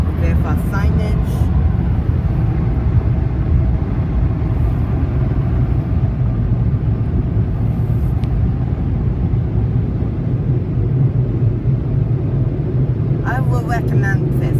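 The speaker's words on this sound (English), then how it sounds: "Let's see how the dryers do. We have Mark 7 Protest dryers." Mark VII ProTouch car wash dryers, two side units and overhead blowers, roar with a loud, steady low rush of air throughout, with brief squeaky bursts at the start and end and someone talking faintly over it.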